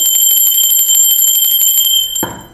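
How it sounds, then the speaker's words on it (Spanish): A bell used for cleansing energies rings with a bright, sustained metallic tone that repeats rapidly in a continuous trill, close and loud, then stops with a brief thud near the end. "la campana es una energía de alta frecuencia, de alta vibración"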